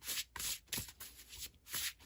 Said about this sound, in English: Shuffle them out, see what we got.